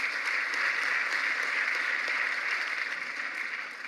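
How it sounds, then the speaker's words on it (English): A crowd at an election results announcement applauds with dense, steady clapping that fills the room, sustained for several seconds and tapering slightly at the end. "And we applaud you"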